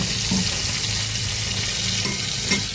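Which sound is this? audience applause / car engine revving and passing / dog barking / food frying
food frying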